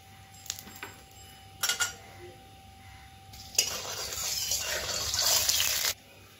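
Boiled jackfruit is tipped into a basket to drain, a few light clinks first, then a rushing splash of water pouring for about two seconds before stopping abruptly.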